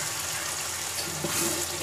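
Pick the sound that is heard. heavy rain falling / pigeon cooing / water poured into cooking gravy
water poured into cooking gravy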